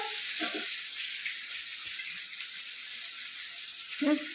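Onion, cabbage and grated carrot fry in a pan with a steady, soft hiss of sizzling, while brief bits of talk and stirring noises come through.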